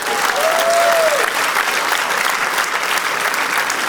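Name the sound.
audience applause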